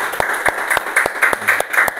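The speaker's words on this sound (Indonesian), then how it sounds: "Tepuk tangan untuk kelompok 3" A classroom of students claps for a group after its presentation, close and lively, with sharp, fairly even beats for about two seconds and no talk over it.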